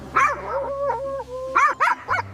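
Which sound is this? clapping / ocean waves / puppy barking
puppy barking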